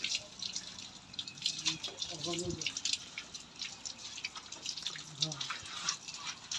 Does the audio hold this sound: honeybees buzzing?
no